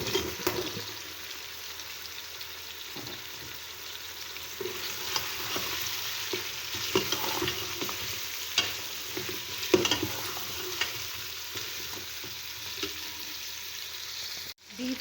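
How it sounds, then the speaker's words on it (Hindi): Cubed beef and bottle gourd stir-fried together in a pot for a curry, with continuous sizzling and repeated scraping stirs, a few louder clatters near the end and no talk. "बीफ को हमने 3 से 4 मिनट अच्छी तरह से भून लिया है। अब हम इसमें लौकी ऐड कर देंगे।"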